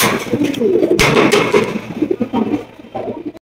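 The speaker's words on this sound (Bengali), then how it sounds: "এটা কিন্তু একদম বিগ সাইজের সিরাজি কবুতর" Big silver-coloured Siraji pigeons coo continuously at close range, their low murmuring calls layered into a steady, busy texture with a sharp knock near the start.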